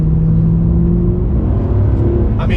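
Exhaust of a 2012 Mercedes-Benz C63 AMG W204 rumbles loud and close with a steady deep drone, a faint voice briefly audible near the end.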